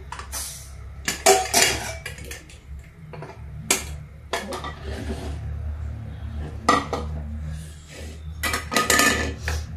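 A pot of pea and tomato vegetable curry being opened and served, heard as irregular close clinks and clatters of metal lid, spoon and dishes over a low background hum, with no talk.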